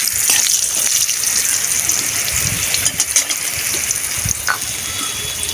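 Water gushes loudly and steadily into a pan of lightly fried pointed gourd, a close, continuous pouring rush with small splashy surges, no voices over it.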